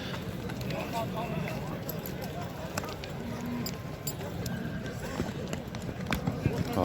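Horses at a busy livestock bazaar in Nookat, with scattered hoof clops and occasional snorts set among a dense crowd murmur and people talking nearby throughout.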